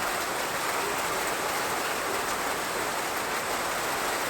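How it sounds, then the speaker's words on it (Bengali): Heavy morning rain pours down in a village, making a dense, even hiss that stays steady and fairly loud throughout, with no voices. "বৃষ্টি অনেক ঝুম বৃষ্টি হচ্ছে"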